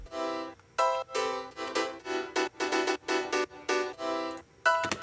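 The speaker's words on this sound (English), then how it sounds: "Then I have a Contact 5 piano, the Giant." The Giant piano from Kontakt 5 plays a run of rhythmic chords and stabs in a 90s house style, clear and close, alone with no speech.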